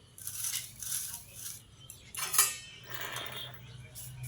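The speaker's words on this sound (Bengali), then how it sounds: "এই বাটিটার মধ্যে ঢেলে নিচ্ছি" Potato, pointed gourd and paneer curry being poured from a pan into a bowl: light metallic clinks and scrapes of a spoon against the cookware, quiet and intermittent, with one sharper clink midway.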